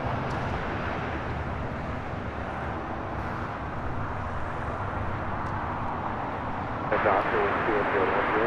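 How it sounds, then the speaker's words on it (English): An Avianca Airbus A320neo takes off from LAX bound for San Salvador, producing a steady, broad engine roar that holds at an even level for the whole stretch and swells slightly near the end. "This is Avianca 621 taking off to San Salvador on an A320neo."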